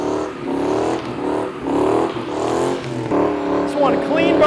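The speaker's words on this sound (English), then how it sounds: "Just want a clean burnout." A Mustang at a large one-day car show revs and spins its tires in a burnout, engine surging in repeated waves with rising whine, while people talk and shout nearby.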